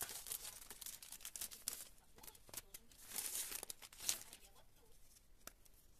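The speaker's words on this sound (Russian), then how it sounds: "пакет" A plastic bag crinkles and rustles in irregular bursts while a soap flower bouquet is wrapped by hand, close up, with quiet speech in places.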